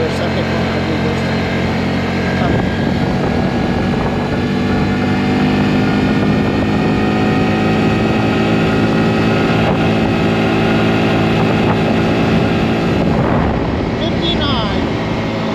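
2022 Honda Grom SP motorcycle at full throttle chasing top speed, a continuous loud engine drone with rising tones and heavy wind buffeting the whole way through.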